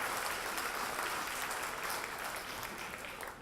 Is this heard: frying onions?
no